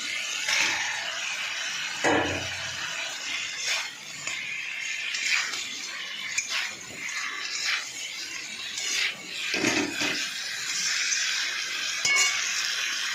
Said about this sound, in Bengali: বন্ধুরা, আমার মশলা হয়ে গেছে। এবার আমি মাছটা ঢেলে দেবো।